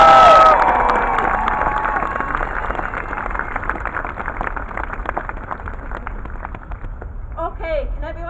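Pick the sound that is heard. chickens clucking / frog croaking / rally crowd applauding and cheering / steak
rally crowd applauding and cheering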